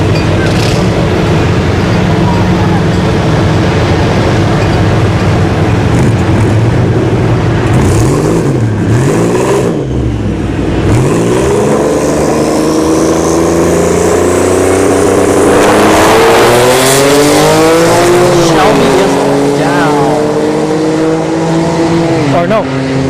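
Cars at a drag strip test-and-tune session, including a Shelby GT500 and a V6 Turbo S197 Mustang, loud engines revving and pitching up as they accelerate away, with a constant crowd and PA wash and a commentator talking over it.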